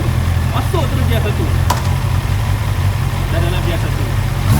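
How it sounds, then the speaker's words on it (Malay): A Honda CB650R motorcycle with E-Clutch idles in a steady, close, low rumble that stays even throughout, with a person talking over it. "sekarang ni motor dalam keadaan idle"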